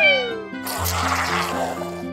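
A cartoon kitten gives a short, bright meow at the start, set over a steady musical background that carries on afterward.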